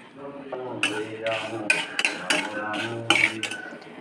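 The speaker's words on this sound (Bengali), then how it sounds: "গ্যাসটা সিমে রেখে হালকা করে নাড়াচাড়া করে নেবো" Whole spices are stirred in a hot kadai over a low gas flame, a metal spoon scraping and clinking against the pan in irregular close knocks and clatters.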